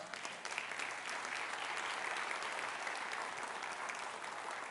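Church congregation applauding during a sermon, a steady wash of many hands clapping, fairly distant and even in level, with no speech over it.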